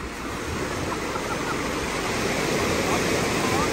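Atlantic Ocean surf on a black sand beach in Tenerife, a loud, continuous wash of breaking waves that stays steady and close throughout.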